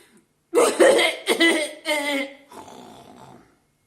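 A voice imitates a wet, phlegmy cough, several gurgling, throaty hacks in a row, close and loud before trailing off.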